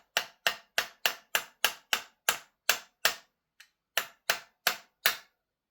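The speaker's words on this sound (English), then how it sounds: "line up the flathead on the back there and just tap it with a hammer" A hammer taps a flathead screwdriver against the back of an airsoft rifle bolt: about fifteen sharp metallic knocks in a steady rhythm, close and crisp, with one brief pause near the middle.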